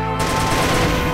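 Rapid automatic gunfire rattles loudly in a shooter video game match of Warhead, a dense burst of close shots filling the moment.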